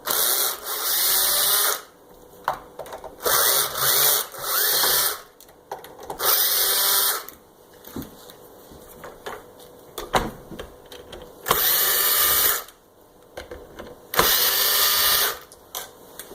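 A power drill whirs in short repeated bursts, each a second or two long with quiet gaps between, while backing screws out of a Kirby Sentria II vacuum cleaner during disassembly.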